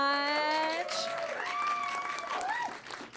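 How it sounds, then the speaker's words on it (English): Audience at a live stand-up comedy show in Paris clapping, a broad steady wash of applause heard close, with a voice talking and laughing over it. "You can applaud now."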